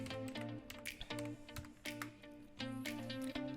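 Fingers type a search on a computer keyboard in bursts of quick, close key clicks, with short pauses between runs of taps.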